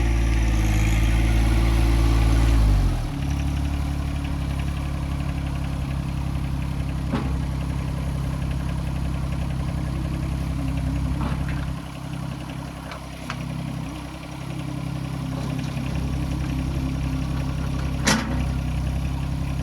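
Heavy tractor engine idles steadily with a deep, throbbing rumble throughout, after an initial louder revving that drops off early, with occasional faint clanks.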